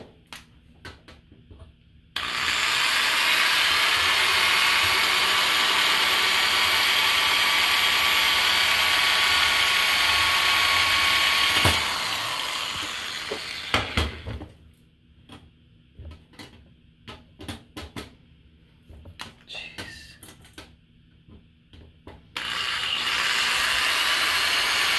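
A power drill bores into a part of a Department 56 Christmas Candy Mill, a steady high whine running for about ten seconds, then a clatter of handling noises and clicks before the drill starts again.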